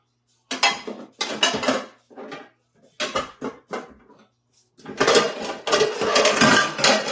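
Metal cooking pans, including a rice pan and a refried bean pan, clatter and knock as they are handled in a home kitchen, in uneven bursts of close, sharp clanking separated by brief pauses, then a longer run of rattling.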